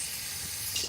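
Brake cleaner spraying in a short, continuous, close hiss that runs for under a second, bright and steady, with no talking over it.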